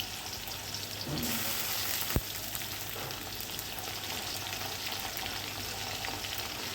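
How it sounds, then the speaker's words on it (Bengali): Onion, garlic and ginger paste frying in a pan, a dense, even sizzle and hiss holding steady throughout, with one sharp click partway in and no speech. "দিয়ে মশলার কাঁচা গন্ধটাকে একটু কষিয়ে নিব, যাতে আদা রসুনের ফ্লেভারটা চলে যায়।"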